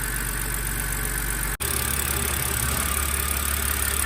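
A BMW N52 inline-six idles steadily with a low, even hum and a faint lifter tick, close and continuous with one brief dropout partway through; no one speaks.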